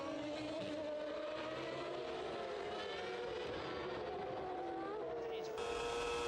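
Formula 1 cars racing at Imola in 1994 produce high engine whines that shift in pitch as they accelerate, heard at a distance under a commentator's voice.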